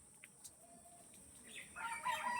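Malay rooster crowing faintly in a farm setting, a short distant call rising near the end after a few scattered clicks and rustles, alone without talk.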